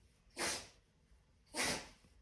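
A dog sneezes twice, two short, sharp bursts about a second apart, close by, with quiet in between.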